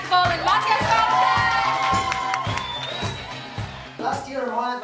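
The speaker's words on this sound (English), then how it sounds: "A big round of applause for Jorgen Ekvall and Matthias Kaufmann!" Audience cheering for two speakers at a university lecture, loud crowd whoops and shouts with a rhythmic beat of clapping or stomping, and one voice rising sharply in a long excited yell before a final burst.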